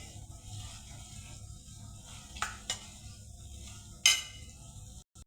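A spoon stirs food cooking in a pan, soft scrapes over a low simmering sizzle, with a few sharper clinks against the pan edge and one louder knock near the end.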